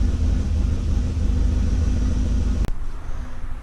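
A BMW 4.4-liter V8 idles with a steady, deep rumble up close, the running fairly smooth though shaky, briefly cut by a short break near the end.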